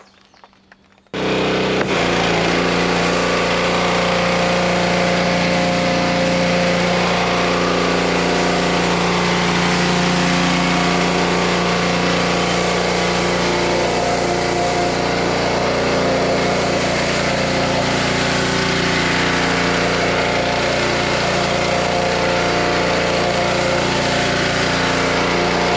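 A pressure washer runs with a fan tip narrowed while a foam cannon sprays Chemical Guys snow foam onto a car, a loud, steady motor drone with hissing spray that starts abruptly after a brief quiet moment and continues unbroken.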